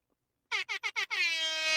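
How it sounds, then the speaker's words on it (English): An air horn sound effect fires four short, loud blasts in quick succession, then one long sustained blare. Nothing else is heard around it. "Here's some air horn for you."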